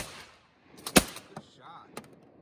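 A single sharp, close shotgun blast at a duck during a hunt, followed by a few fainter knocks and brief voices.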